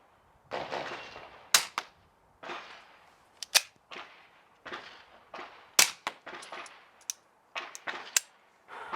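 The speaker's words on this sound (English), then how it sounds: "we're going to shoot the simunition marking rounds" Simunition marking rounds fired in a series of sharp, loud cracks, roughly a dozen reports spaced irregularly with some quick pairs, each followed by brief echo, no talking.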